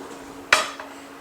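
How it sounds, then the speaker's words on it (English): Grated cheddar cheese tipped into a mixing bowl gives one short, bright clatter against the bowl, with a fainter second knock just after, alone and close in a quiet kitchen. "we're going to simply add the 100 grams of grated cheddar"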